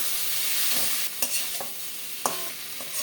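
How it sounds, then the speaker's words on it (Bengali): Potatoes and cauliflower being fried with spice paste in a pan sizzle steadily, broken by a few sharp spoon scrapes and clanks against the pan. "দিয়ে দেবো ভেজে রাখা আলু ফুলকপি মশলার সাথে ভালো করে কষিয়ে নিতে হবে"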